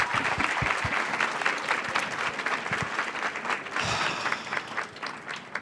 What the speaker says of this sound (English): Let's give Danny a huge round of applause